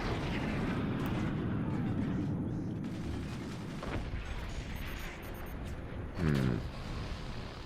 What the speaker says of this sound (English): Death by mortar, potentially?